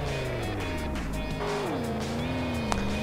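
A car drifts in Garry's Mod with a loud, continuous engine whine that dips and rises as it slides, joined by squealing tires and a sharp brief screech near the end.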